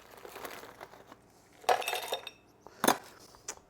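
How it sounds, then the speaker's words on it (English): Fresh ice drops into a cocktail glass with a few bright, separate clinks and rattles, spaced out over a few seconds in a quiet room, with no talking over them. "I'm gonna have some fresh ice in the glass"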